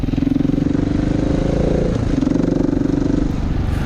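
A KTM 690 Enduro R motorcycle engine chugs loudly and up close with a rapid single-cylinder pulse, rising in revs, dipping briefly around the middle, then building again, heard on a green lane ride in Cambridgeshire.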